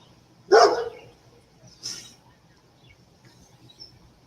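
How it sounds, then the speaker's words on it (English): Rottweilers barking at the door from the steps: one loud bark followed by a second softer bark, then quiet background with faint chirps. "Oh, Rottweilers on the steps barking at the door."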